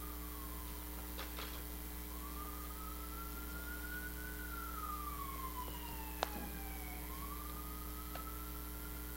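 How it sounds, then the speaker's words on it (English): Distant emergency siren drifting in from outside, faint wailing tones rising and falling over steady low room hum, with a single sharp click partway through. "You know what that siren means"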